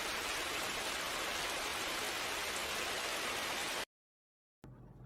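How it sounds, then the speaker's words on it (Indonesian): Heavy rain falling at night in a forest, a dense, unbroken roaring hiss that stops abruptly near the end, leaving a brief silence before a much fainter background returns. "hingga sampai malam hari dan hujan lebat, Maya istirahat di hutan tersebut."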